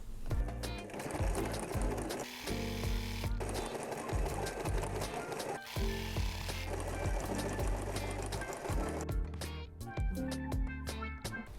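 Domestic sewing machine stitching the side seam of a blouse sleeve, a steady close mechanical chatter of needle and feed running almost continuously with short pauses and light handling clicks.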